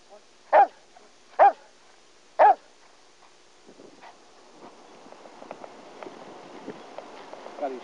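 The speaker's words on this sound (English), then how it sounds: "Those two dogs are loose too" Three loud, sharp barks from loose dogs ring out about a second apart, followed by quieter scuffling and thudding footsteps moving nearby.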